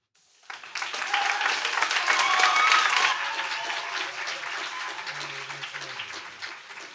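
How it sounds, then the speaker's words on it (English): An audience at a school district board meeting bursts into applause. The clapping starts abruptly, builds to a full, dense peak, then slowly thins and fades. A faint low voice is heard near the end. "we're going to go ahead and hold the applause till the end"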